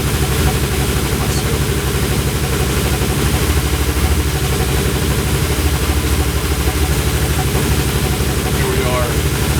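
A BMW 635csi engine running on an ECUmaster Classic management system with injectors not yet set right, a steady, dense mechanical drone heard up close without pause.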